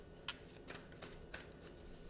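Tarot cards are shuffled by hand in quick, soft riffling bursts with brief snaps, close and quiet.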